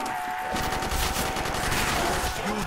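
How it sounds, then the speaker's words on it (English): Rapid bursts of gunfire in World at War Zombies, loud and dense from start to finish with a continuous rattling texture, a voice faintly audible beneath. "I'm gonna start shooting"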